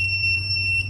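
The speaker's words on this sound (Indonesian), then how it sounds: "Maka akan ada bunyi buzzer, yaitu panjang, tit gitu, kurang lebih selama 1 detik." Fingerprint sensor buzzer on an Arduino NodeMcu authentication project sounds for an unregistered thumbprint: a single steady, shrill electronic tone held for about a second, close and clear with a low hum underneath.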